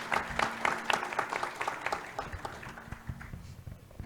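Audience applause fills a conference hall in Brasília as a federal deputy walks onto the stage. The steady clapping from a crowd holds for the full stretch and fades a little toward the end.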